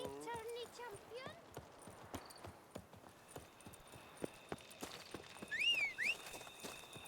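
Horse hooves clip-clop in The Witcher 3: Wild Hunt – Blood and Wine, a steady rhythm of distinct hoofbeats at moderate distance, with a brief whinny, game music and a man calling out over them.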